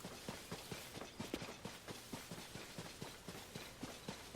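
A horse's hooves clop rhythmically and continuously in the Zelda: Tears of the Kingdom video game, a brisk even trot of soft muffled strikes at moderate volume that keeps going without pause.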